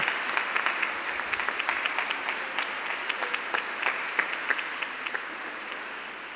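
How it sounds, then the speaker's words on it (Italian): Congregation applauding during a solemn Easter Mass in a church, steady dense clapping from many hands held at an even level throughout, reverberant and moderately distant. "Grazie, un applauso."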